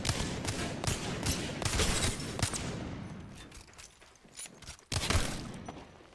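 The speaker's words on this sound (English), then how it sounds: "I'm actually going to try shooting him" Heavy Wingman revolver shots ring out in Apex Legends, several sharp cracks in quick succession early, a quieter stretch of lighter sounds, then another loud shot near the end, close and punchy with no talking.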